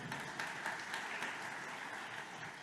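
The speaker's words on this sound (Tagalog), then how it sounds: "pumalakpak ng malakas sa ating mahal na Panginoon" A church congregation applauding during a sermon, steady dense clapping spread across the room at moderate distance, continuous and even throughout with no talking.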